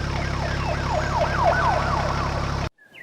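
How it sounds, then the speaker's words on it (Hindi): A cartoon police siren wails in quick rising and falling sweeps, loud and steady over a low hum, then cuts off abruptly near the end. "पुलिस आ जाती है और कालू कौवे को पकड़कर ले जाती है।"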